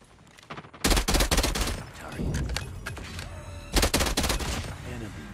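Rapid TEC-9 bursts in a video game crack out loud and close in two heavy volleys, with scattered single shots and rattling in between.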